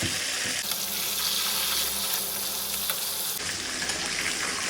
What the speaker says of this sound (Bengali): একটু নরম করে হচ্ছে মাংসটা ভেজে নিচ্ছি